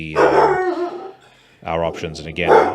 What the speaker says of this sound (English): apologies for the devil dog barking here in the background.